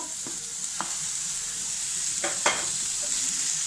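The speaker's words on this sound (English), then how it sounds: "Fry it for 2 minutes." Finely chopped tomato frying in a pan, a steady close sizzle with the soft scrape and tap of a spoon stirring at intervals, no voices.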